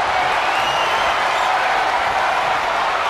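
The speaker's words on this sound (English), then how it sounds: "you hear this capacity crowd following you on that journey" A capacity arena crowd in the wrestling video game WWE 2K23 roars and applauds in a dense, continuous, loud wash of noise with no breaks, and no distinct voices rise above it.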